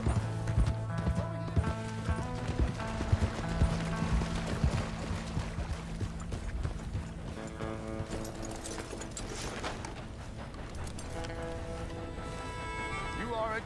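Rhythmic hoof clip-clop of a galloping horse in Red Dead Redemption 2 amid game music and effects, with a person talking over it throughout.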